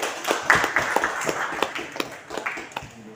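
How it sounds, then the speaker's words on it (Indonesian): A small group claps, a quick scattered patter of hands that gradually thins out, fairly close. "Tepuk tangan"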